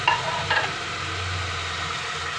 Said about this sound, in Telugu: ఈ ఉప్పు కారం అన్నీ వేసుకుని వేయించుకోవాలండి